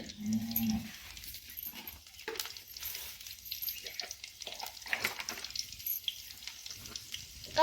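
Garlic frying in hot oil for a cauliflower masala tempering, a soft continuous crackling sizzle with brief pops, close and fairly quiet, with no voices.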